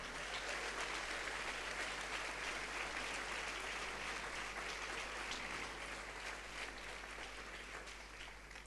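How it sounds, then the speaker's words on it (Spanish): A church congregation claps in a sustained, even wash of applause during a Spanish-language service, moderately distant and steady, easing slightly toward the end with no speech over it. "Dale un fuerte aplauso al Señor"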